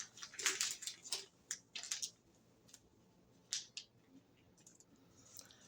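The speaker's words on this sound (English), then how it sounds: "I'm going to cut this part off" Scissors snip through tape close up, making a few quick crisp cuts and clicks, followed by quieter sparse rustles and snips in an otherwise quiet room.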